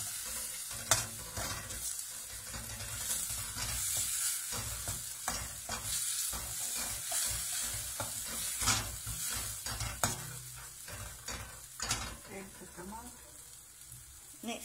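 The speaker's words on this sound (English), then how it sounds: "I'm going to give that a good stir." Coconut curry paste sizzles in a pan while a spoon stirs it steadily, giving a close, continuous frying hiss broken by scraping strokes and occasional clinks.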